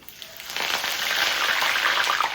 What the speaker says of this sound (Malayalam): ഇതുപോലെ പൊട്ടി വരുന്ന സമയത്ത് തന്നെ നമുക്ക് കുറച്ച് വറ്റൽമുളക് ഇട്ട് കൊടുക്കാമേ